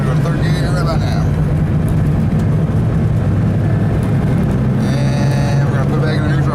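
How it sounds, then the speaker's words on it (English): A 1981 Rabbit car engine drones steadily from inside the cabin while shifting into third gear, a constant low hum with someone talking over it. "we're gonna go to third gear right about now"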